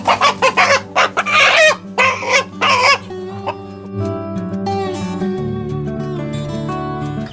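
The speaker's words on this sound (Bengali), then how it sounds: "এখানে দেখতে পাচ্ছি বিশাল বড় বড় টাইগার মুরগি আপনার লালন করতেছেন" Tiger Brahma and local chickens cluck on a farm: several loud, close, choppy clucks in the first few seconds, then a sustained crow-like call fades into quieter farmyard calls.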